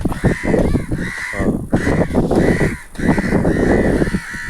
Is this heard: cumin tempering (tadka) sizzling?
no